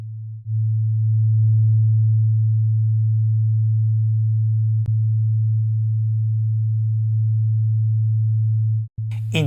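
A synthesized 808-style sub-bass sine wave holds a steady, loud, pure low tone for about nine seconds, with only faint clicks breaking it before it cuts off.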